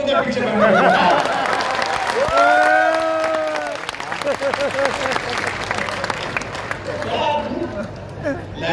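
An audience at a live talk claps loudly and steadily, mixed with crowd voices, some cheering and a brief rising whistle-like tone. Near the end the clapping thins out under speech.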